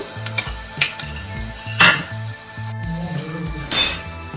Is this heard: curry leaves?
yes